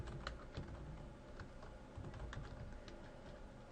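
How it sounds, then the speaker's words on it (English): Quick, irregular keyboard typing, a steady stream of light key clicks close by with no voices. "and I'm typing in here."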